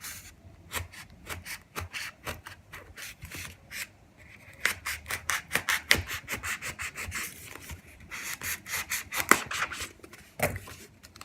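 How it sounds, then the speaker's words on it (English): Scissors cut through a glued decorative craft pumpkin with a run of sharp, scraping snips and crunches, close and fairly loud, in irregular bursts that grow denser partway through. "So I just stick my scissors inside there and just slice it"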